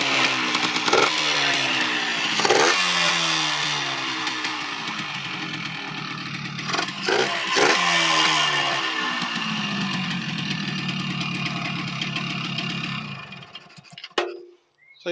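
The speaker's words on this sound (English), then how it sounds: "The engine sounds like it's in good condition." An abandoned Yamaha motorcycle's engine runs steadily and loud for about thirteen seconds, idling with slight revs and a buzzing tone, then dies away with a few clanks near the end.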